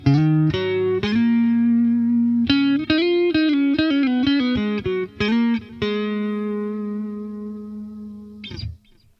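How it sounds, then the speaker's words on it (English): Electric guitar phrases played through a Boss Katana MK2 amp with tape echo, notes ringing out with soft repeating delays trailing behind each pick, ending in a brief scrape. "are going to use a tape echo delay on here because I like it"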